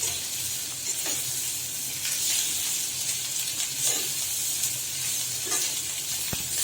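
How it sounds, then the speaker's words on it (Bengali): Chicken stuffing fried briefly in oil, a steady close sizzle with soft periodic stirring scrapes and a sharp tap near the end. "আমি অল্প কিছুক্ষণ ভাজবো।"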